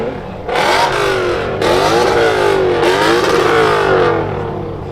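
A Lexus IS F engine revs hard several times in quick succession at a car meet, each rev climbing sharply and bouncing off the rev limiter, loud and close.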